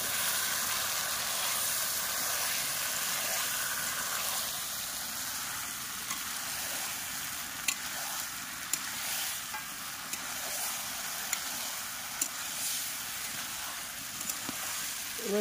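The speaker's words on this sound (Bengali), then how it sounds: "এবার মাংসটা এই মশলায় ছেড়ে দেবো।" Meat dropped into fried spice paste with turmeric in a pan, a steady loud hiss of sizzling with small crackles and occasional clinks of stirring, no voices.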